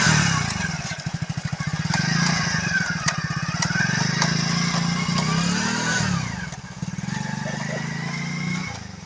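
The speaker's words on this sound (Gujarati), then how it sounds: "પહેલા ગેરની અંદર રેસ વધારે કરો નહીં તો બાઇક વધારે ચાલે નહીં" A motorcycle engine revving in first gear during a beginner's riding lesson, with a rapid pulsing throb that rises and falls, briefly dipping before picking up again, close by and loud.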